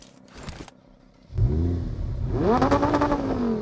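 A Lamborghini engine in PUBG Mobile revs up sharply, roaring loudly with rising pitch, then holds a strong, steady growl through the rest.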